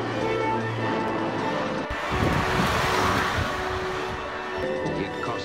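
A Morris Ital saloon car drives past with a steady engine drone and road noise, surging slightly in the middle as it accelerates, with wind rush over the recording.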